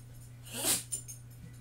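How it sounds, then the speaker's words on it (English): A dog gives a single quick sneeze, a short breathy burst followed by a faint snort, close by in a quiet room. "My dog's sneezing."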